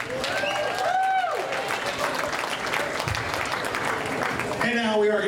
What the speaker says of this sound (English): One more time, a big round of applause for Dad.